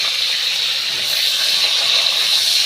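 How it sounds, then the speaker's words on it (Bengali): Pointed gourd (potol) frying in oil as it is turned, giving a steady, bright, close sizzling hiss that runs evenly throughout with no talking. "সুন্দর করে পটলগুলো নাড়াচাড়া করে পটল ভেজে নিচ্ছি"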